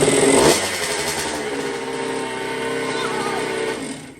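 An old motorcycle engine, pulled from a shed, runs steadily after starting, a loud continuous mechanical drone with a brief louder burst at the start, close by.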